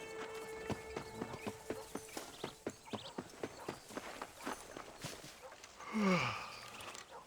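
Horse hooves clip-clop at an even walking pace in the Red Dead Redemption video game, a dozen or so close, distinct knocks, followed by a short snort or whinny near the end.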